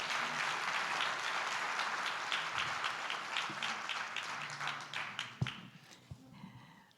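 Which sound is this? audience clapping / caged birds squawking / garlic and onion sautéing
audience clapping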